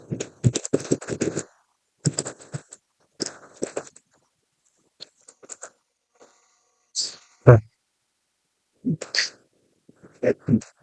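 Commands entered on a computer keyboard at a network switch, heard as close bursts of rapid key clicks separated by pauses, with a few brief voice sounds between them.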